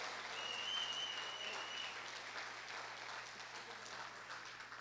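A church congregation at a family service claps together in a continuous, even round of applause, heard from a distance and fairly soft throughout.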